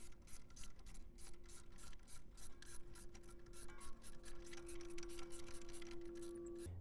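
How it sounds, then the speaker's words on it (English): A pad expander pressing a brake caliper piston back on a 2021 Toyota RAV4: a faint, close, continuous rubbing and ratcheting grind with rapid repetitive clicks and a thin steady squeal, no voices. "you take your pad expander here. So now you're gonna press out your calipers."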